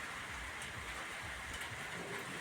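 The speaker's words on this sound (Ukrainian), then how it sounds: "Але ж моросить." Light spring drizzle falling outdoors ahead of a thunderstorm, a soft continuous hiss of fine rain with no voices, even and unbroken throughout.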